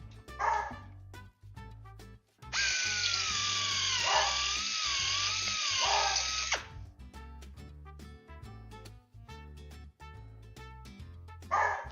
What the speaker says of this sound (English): Sorry about the barking, chat.